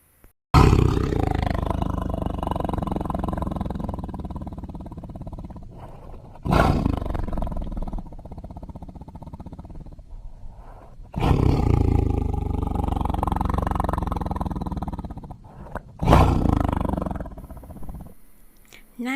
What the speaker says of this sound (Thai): เป็นเสียงของเสือนั่นเองนะคะ